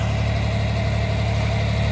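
A tractor engine idles steadily at close range, a constant low throbbing rumble with a strong hum and no breaks over the whole stretch.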